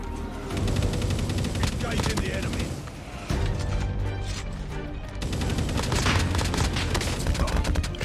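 Rapid automatic gunfire and booming blasts from the mobile shooter Call of Duty Mobile ring out in loud sustained bursts, with a short lull in the middle and a voice talking over the action.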